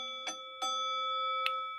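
A vintage electric alarm bell has a clapper that only vibrates against one of its bells instead of swinging. A few sharp metallic strikes are heard, each followed by a long, sustained ringing tone, with no talking.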